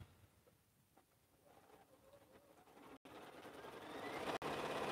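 A sewing machine back stitching on a quilt, a faint motor whir that starts quietly, then swells into a steady, louder hum with two brief cutoffs.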